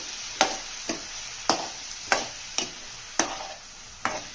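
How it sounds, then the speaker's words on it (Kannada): A spatula stirs chopped ridge gourd in a pan over medium heat, with about eight sharp scrapes and knocks falling at a steady, unhurried rhythm. The sound is close and clear, with a faint background hiss and no talking. "ಹೀರೆಕಾಯಿ ಹಾಕಿದ್ಮೇಲೆ ನೋಡಿ ಚೆನ್ನಾಗಿ ಮಿಕ್ಸ್ ಮಾಡಬೇಕು"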